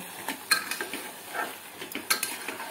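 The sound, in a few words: stirring carrot halwa with sugar in a pot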